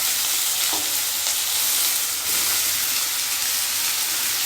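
Potatoes frying in a pan, a loud, dense, continuous hissing sizzle close by with faint stirring scrapes, unbroken across the whole stretch and without talk.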